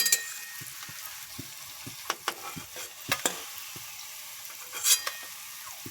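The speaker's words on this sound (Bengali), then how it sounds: "আমি সব পকোড়াগুলোকে ভেজে নিচ্ছি।" Bottle gourd pakoras crackle and sizzle in hot oil, with a steady hiss broken by sharper pops and spatters at irregular moments; no voices.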